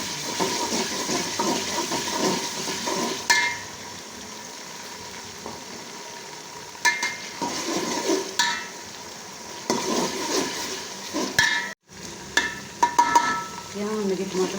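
Ground garlic, ginger and green chilli fry in a pan for a home-style ridge gourd curry, giving a steady close sizzle broken by stirring and scraping, with a brief dropout near the end.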